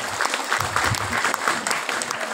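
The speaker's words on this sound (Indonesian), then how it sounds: "Tepuk tangan untuk negara ini." Crowd at an Islamic religious gathering in Indonesia claps in steady, dense applause for the country, loud and continuous across the short stretch.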